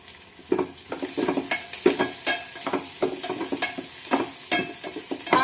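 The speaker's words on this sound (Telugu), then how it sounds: "ఆనియన్స్ అయితే ఫ్రై అవుతున్నాయి" Chopped onions, green chillies and curry leaves frying in a pan and being stirred: an irregular run of close spoon scrapes and clacks over a soft, steady sizzle.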